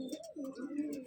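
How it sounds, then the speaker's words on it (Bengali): A female Madrasi pigeon coos in a short, soft, throaty burble close by, a single rolling phrase with a faint chirp overhead and no talk. "এই হচ্ছে মাদি পায়রা"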